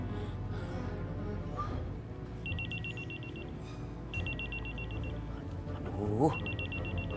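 A phone rings in short repeated electronic trills, three bursts spaced apart, beneath a busy background of voices and noise.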